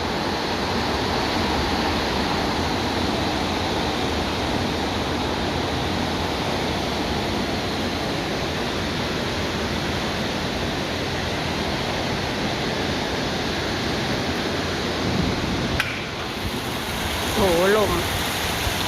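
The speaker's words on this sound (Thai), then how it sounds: "ดูสิว่าฝนมันตกแรงขนาดไหนนะคะ" Heavy rain pours steadily off a roof onto the ground in a dense, loud hiss of water splashing down amid strong wind, continuous throughout, with a voice briefly heard near the end.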